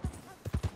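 Horse hooves clip-clopping in Red Dead Redemption 2, a few soft uneven low thuds close by, fairly quiet.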